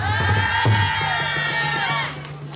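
Festival crowd at an outdoor gakseori folk comedy show cheering and shouting together in a loud burst that fades toward the end, with a performer's voice and music tones over it.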